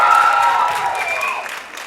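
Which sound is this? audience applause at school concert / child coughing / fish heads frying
audience applause at school concert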